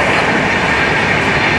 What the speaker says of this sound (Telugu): ఇదిగోండి బ్యూటిఫుల్ వ్యాగ్నైన్తో LHB ట్రైన్